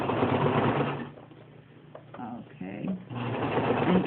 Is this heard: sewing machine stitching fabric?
yes